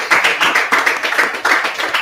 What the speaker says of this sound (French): Je pensais qu'on devait applaudir pour les encouragements.